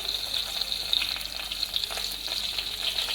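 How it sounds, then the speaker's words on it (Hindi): Crushed pistachios roasting in ghee in a pan over a low flame while making sheer khurma, a steady close sizzle with a bright crackling hiss and small pops throughout. "अगेन हमने एक पैन में 1 टेबल स्पून घी ऐड किया है और लो फ्लेम ऑन कर दिया है। अब इसमें हम 3 टेबल स्पून क्रश पिस्ता ऐड करेंगे"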